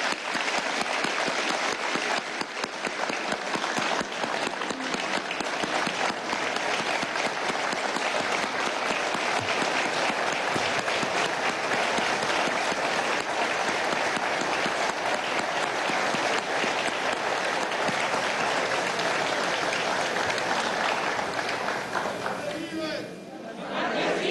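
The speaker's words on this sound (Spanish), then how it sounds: "pido el aplauso para el presidente" Loud, dense applause fills a National Assembly of Venezuela session on Independence Day, a sustained roar of many hands with crowd noise mixed in, barely dipping before it tails off near the end.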